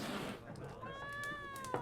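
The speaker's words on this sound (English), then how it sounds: "That stupid cat keep going on" A cat in The Witcher 3 lets out a drawn-out, whiny meow, close and clear, with muffled voice and game ambience underneath.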